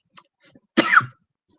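One sharp, close cough from a man, with a few faint breaths and clicks around it in an otherwise quiet room.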